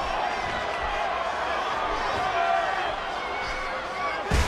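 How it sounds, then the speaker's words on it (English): Wrestling arena crowd cheering and murmuring as a steady, loud wash of voices, with a sharp slam or impact near the end. "Would you listen to this crowd show their appreciation for these amazing competitors?"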